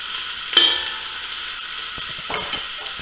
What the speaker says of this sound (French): Nous allons faire revenir des oignons dans l'huile de palme.